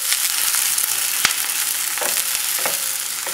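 Fresh okra fries in a pan over a lowered flame for a gumbo, giving a steady, close, bright sizzle with a few soft stirring clicks and pops scattered through.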